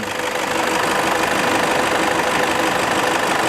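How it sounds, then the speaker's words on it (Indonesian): A Toyota Fortuner VNT TRD Sportivo with a D4D turbo diesel engine runs steadily, giving a dense, even mechanical drone that stays loud and close with no talking. "Mesinnya dengan kode D4D."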